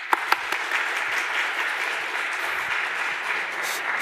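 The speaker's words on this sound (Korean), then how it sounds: "가정에서라도 한번 박수 쳐보십시오." A church congregation applauds steadily for several seconds, dense and continuous clapping with a couple of sharper claps at the start.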